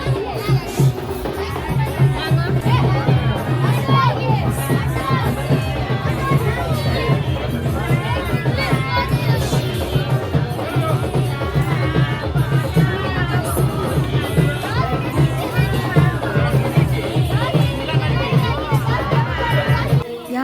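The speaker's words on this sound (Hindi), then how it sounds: "यहाँ पे इतनी ज़्यादा भीड़ होने वाली है" Dense crowd noise at a Muslim wedding as the baraat arrives, a continuous loud hubbub of many voices, shouts and chatter packed close together with no break.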